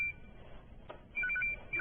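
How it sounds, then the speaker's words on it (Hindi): Mobile phone ringing during an office meeting in a drama scene, a thin electronic ringtone with short repeating beeps, faint and brief against a low background hum. "सर आप ही का फोन बज रहा है।"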